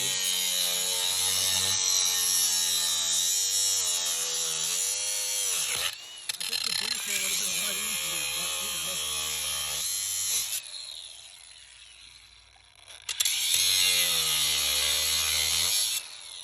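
Power ratchet or impact tool driving a bolt on a dump truck repair, loud continuous whirring and buzzing that runs for several seconds, drops out briefly and returns, under a noisy workshop bed.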